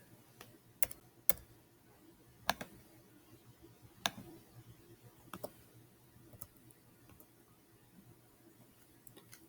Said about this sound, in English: I'm just going to press the letter T on my keyboard